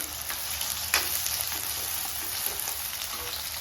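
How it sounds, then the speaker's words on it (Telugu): Chopped onions, two of them, sizzling steadily in hot oil in a pan for a South Indian chicken liver fry, a continuous close frying hiss with a brief stir around the one-second mark. "అందులో 2 ఉల్లిగడ్డలు కట్ చేసి వేసుకున్నాం."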